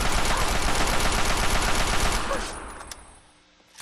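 Rapid automatic gunfire in the Fallout 3 video game, a dense loud burst of shots for about two seconds that then fades, with a single sharp click near the end.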